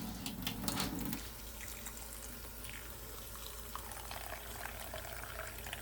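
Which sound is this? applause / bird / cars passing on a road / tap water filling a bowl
tap water filling a bowl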